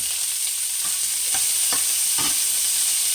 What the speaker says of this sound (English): bell pepper, red pepper in here to saute. So get them sauteed up about 4 or 5 minutes.